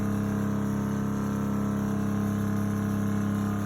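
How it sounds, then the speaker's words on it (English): A water pump runs inside a new-build narrowboat, a steady mid-pitched electric hum with a constant drone and faint rhythmic pulsing, close and alone with no voices. "you can hear the pump come on"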